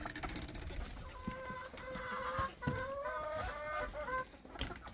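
Several farm chickens cluck and murmur steadily in a barnyard, their calls overlapping at moderate volume with faint rustling and background noise throughout.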